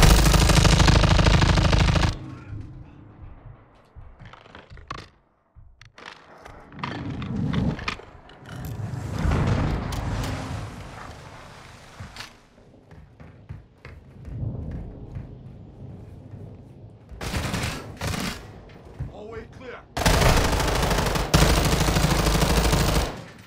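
Heavy automatic gunfire in Call of Duty: Modern Warfare II on an oil rig, long loud bursts and scattered shots with booming blasts, rising and falling over about twenty seconds.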